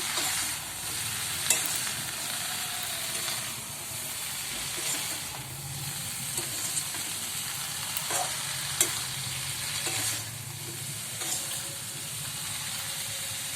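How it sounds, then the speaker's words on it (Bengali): Vegetables for Bengali niramish panchan are stirred in a hot pan, the utensil scraping and clicking in repeated strokes over a constant hiss of steam and frying, with no voices. "দেখুন কীভাবে নাড়ছি।"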